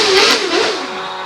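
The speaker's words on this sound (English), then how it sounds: "If you hear the background, that's Wallace having a quick rev up there and spin the wheels" Hillclimb race car at a British Hillclimb Championship event revving hard and spinning its wheels, a loud, close engine roar that swells and then eases off within a second.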